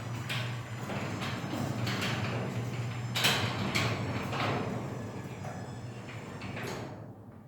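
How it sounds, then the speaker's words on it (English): Craftsman garage door opener lifting a garage door in a shop, a steady mechanical hum and rattle running throughout with a few louder clanks, fairly close. "that garage door opener there, we installed that"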